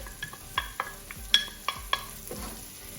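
Onion frying in a hot pan for chicken and rice, a low continuous sizzle broken by repeated sharp clicks and scrapes of a utensil stirring against the pan, close up with no talking.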